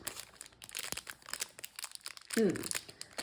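Crinkly plastic packaging rustles and crackles in bursts while someone fiddles with it, with a brief voice partway through.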